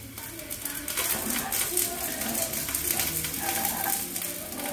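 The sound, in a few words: onion and sausage frying and being stirred in pan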